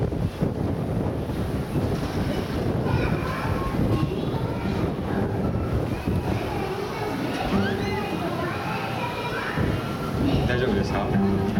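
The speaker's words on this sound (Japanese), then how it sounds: "今風が吹いていて、まあなんか楽譜が飛んでいってるみたいなんで" Wind gusts across the microphone outdoors at an amusement park brass band performance, a steady loud roar and rumble, with people talking over it.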